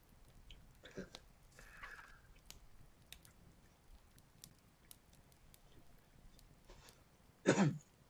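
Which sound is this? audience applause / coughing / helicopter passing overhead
coughing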